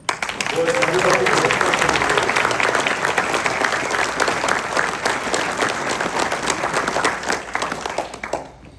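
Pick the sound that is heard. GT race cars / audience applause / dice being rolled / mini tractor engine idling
audience applause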